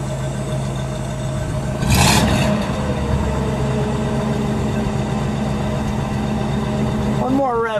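The 322-cubic-inch engine of a 1954 Buick Skylark convertible idles with a low steady rumble and gives one short rev partway through, close by, while people talk.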